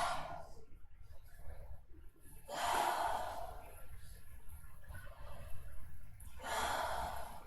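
Deep, slow breaths in yoga child's pose, long audible inhales and exhales in a quiet room, close and soft.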